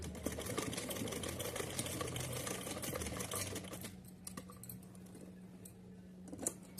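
A sewing machine double-stitches a folded bodice seam on a small cotton doll dress with a rapid, even chatter for about four seconds. Then it stops, leaving faint clicks and handling sounds.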